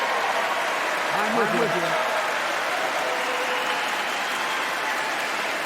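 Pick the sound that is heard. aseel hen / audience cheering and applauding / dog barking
audience cheering and applauding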